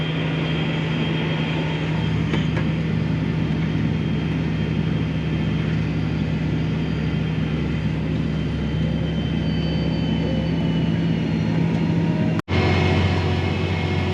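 A tractor pulling a ripper through a field, heard from inside the cab as a loud, steady engine drone with a constant low hum and a brief dropout near the end.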